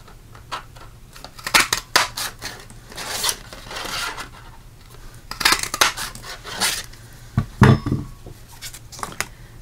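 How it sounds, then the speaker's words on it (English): Scissors cut a scrap of basic black cardstock into pieces for a graduation cap, giving repeated close crisp snips and paper rustles in irregular bursts with short pauses between them. "We need a scrap piece of basic black cardstock. We're going to cut two of these."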